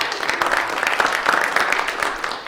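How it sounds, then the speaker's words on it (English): An evening audience at a school district capital plan meeting breaks into sustained applause, a dense, even patter of many hands filling the room. "sure, give them a round of applause."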